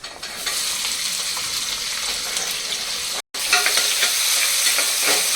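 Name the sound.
cumin and chopped shallots frying and being stirred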